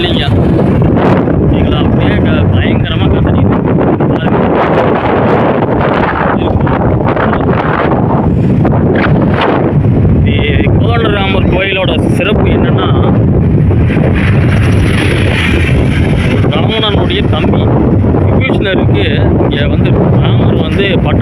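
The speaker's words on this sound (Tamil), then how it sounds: "காற்றுக்கு பஞ்சமே" Strong sea wind at Rameswaram roars and buffets the microphone without letup, a loud, rough rush of air with a voice faintly buried beneath it.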